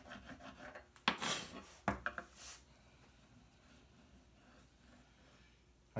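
A carving gouge is stropped on a hardwood block charged with polishing compound. A few close, dry rubbing strokes sound in quick succession, then it goes nearly quiet.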